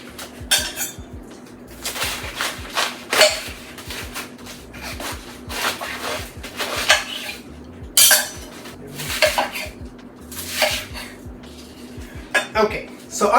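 A knife chops through a frozen head of cabbage on a board, with repeated crunchy, scraping cuts in uneven bursts that sound close and fairly loud over a low hum.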